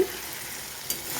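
Mustard oil poured over shukto curry with onion crackles and sizzles in a hot pan, a steady close frying hiss with a brief louder burst near the end, no voices.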